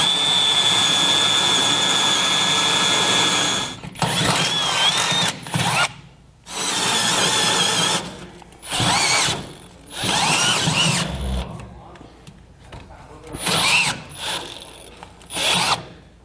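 A power drill bores holes through the truck bed of a 1996 Ford F-250 for a B and W Turnoverball underbed gooseneck hitch, first one long steady whine, then several short bursts separated by quiet pauses.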